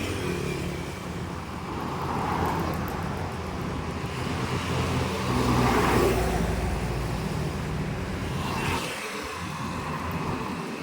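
Heavy midday road traffic beside a footbridge in Laos: a dense, continuous roar of cars and motorbikes passing close by, with engine swells rising and fading and no clear voices above the noise.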